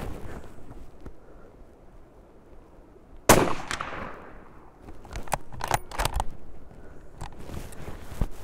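A sniper rifle with a free-floating barrel fires a single loud shot at about 3.3 seconds from a barrier rest, a sharp blast that rings and decays, followed by quieter clicks and handling noises of the bolt and gear.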